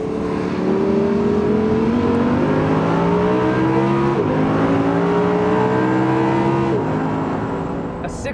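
A 2014 Audi R8 V10 Plus engine revs hard and steadily, its harmonics climbing through repeated gear-like pulls with brief dips near four and seven seconds, loud and close throughout with no voices.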